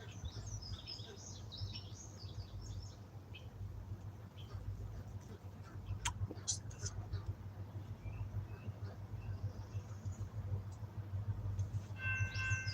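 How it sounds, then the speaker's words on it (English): A train rumbles by at a distance, a low steady drone that swells slightly over time, with birds chirping above it and a horn-like tone near the end. "Train coming."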